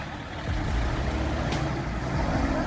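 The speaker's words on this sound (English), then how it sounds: "witness a powerful truck loaded to the brim, battling through a treacherous, mud-filled road deep in the countryside" Heavily loaded truck grinding along a muddy countryside road, a loud, dense, continuous engine roar and rumble that swells slightly after the first half second and stays steady.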